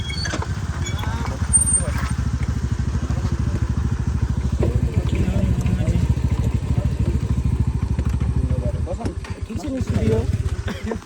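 A motorcycle engine thrums close by with a continuous low, pulsing rumble that holds steady for the whole stretch before easing near the end.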